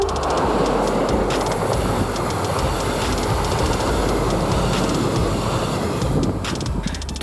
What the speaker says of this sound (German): Gezogen bzw. geschoben werden sie planmäßig immer von E-Loks der Baureihe 143